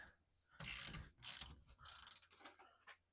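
A ratchet wrench loosens a large through-bolt on a worn Liquifire suspension, three bursts of quick, close clicking pawl ratcheting separated by short pauses, with no one talking.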